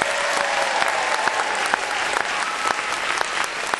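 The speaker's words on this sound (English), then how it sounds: "They clapped their hands and they cheered for the orchestra." An audience applauds an orchestra at a symphonic concert, dense sustained clapping filling the hall at full volume without a break.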